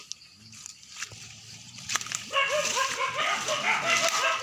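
Dogs bark and yip outdoors during wild tuber digging. The overlapping barks are fairly close and grow louder and busier in the second half.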